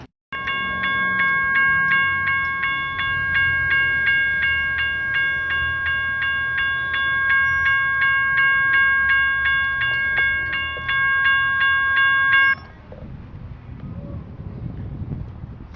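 A steady rumbling train runs past in Panama City, Florida, with a sustained high whistling tone over it for about twelve seconds, then the tone cuts off, leaving quieter rumble and wind.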